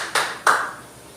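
A class clapping in a classroom: two sharp, bright group claps about a third of a second apart, the second louder with a brief ringing tail, then quiet.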